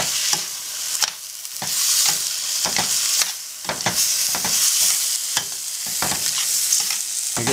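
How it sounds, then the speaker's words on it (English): Vegetables for an alkaline vegetable alfredo sizzle steadily in a hot pan while a utensil stirs them, scraping and clattering in repeated bursts close up. "Just saute that, stir it up."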